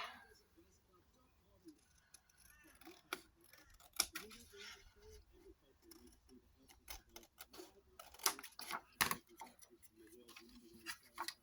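Scissors trim paper for a junk journal pocket, a string of quiet, close snips and clicks in uneven bursts, with soft speech at times.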